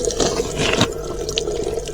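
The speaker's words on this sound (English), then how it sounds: "Right, let's have a piss." A person urinating outdoors on a roadside stop along the NC500 route in Scotland, a continuous splashing liquid stream heard close up for about two seconds, with no talking.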